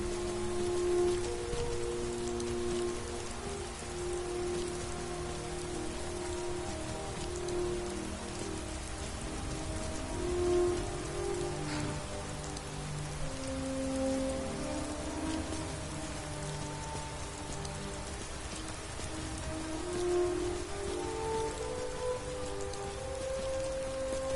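Steady rain falls in the video game Skyrim, a soft continuous patter that stays even throughout, with faint low game tones and no speech.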